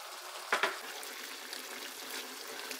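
Kale cooks down in a pan with fried garlic, a soft, quiet sizzle and crackle with a brief stirring scrape near the start.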